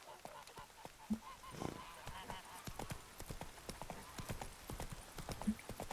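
Rhythmic clip-clop of horse hooves trotting steadily in the video game Witcher 3, fairly close and crisp, with a faint honking sound in the background.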